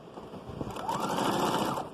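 Sewing machine stitching the fabric edge of a children's shrug, a close motor whir that rises into a fast, even buzzing run and then eases off.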